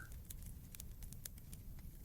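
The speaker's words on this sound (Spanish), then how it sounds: "solo el ruido de la lluvia caer en las hojas secas del suelo" Rain patters softly on dry leaves on a forest floor at night, a faint steady bed of scattered tiny taps with no voices.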